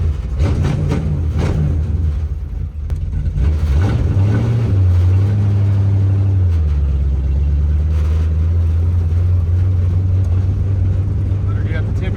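The V8 engine of an old Dodge Dart with a four-speed rumbles loud and close, revving up and settling into a deep, steady drone. Talk can be heard over the engine.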